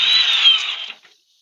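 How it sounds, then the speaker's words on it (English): Power drill whirring steadily at close range for about a second, then spinning down and stopping into silence. "I'm just holding my weight on this drill."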